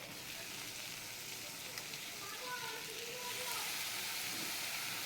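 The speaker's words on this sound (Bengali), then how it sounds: "পেঁয়াজটা লাল লাল করে ভাজা হলে ওর মধ্যে চিচিঙ্গাগুলো দিয়ে" Snake gourd pieces frying in oil with browned chopped onion give a steady soft sizzle that swells slightly toward the end, close and continuous with no talking.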